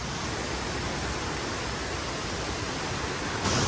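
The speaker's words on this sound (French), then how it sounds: "aller voir la cascade aux écrevisses" Waterfall, the Cascade aux Écrevisses in Guadeloupe National Park: a dense, steady roar of falling water filling the whole clip, loud and close, with no other sounds.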